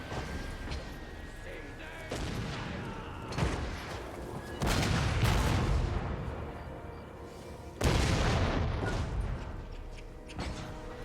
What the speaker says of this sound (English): I really just wanted to hear the sound effects of the various cannon firing